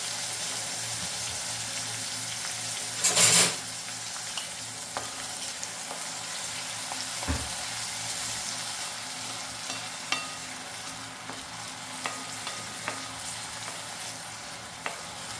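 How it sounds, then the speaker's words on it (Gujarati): Onion frying in a pan, a steady soft sizzle that runs throughout, with one louder burst early on and scattered light clicks and taps from stirring. "ડુંગળી નાખી થોડું ચડવા દઈશું."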